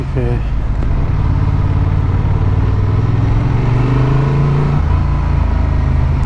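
Honda XL750 Transalp motorcycle accelerating in sport mode, its engine note climbing steadily in pitch through a gear before dropping at a shift, loud and close with heavy wind rumble, and a brief voice at the start.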